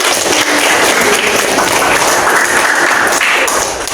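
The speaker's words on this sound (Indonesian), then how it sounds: "Tepuk tangan buat" Audience at a university teaching exam session applauds, a loud continuous burst of clapping that holds steady for about four seconds.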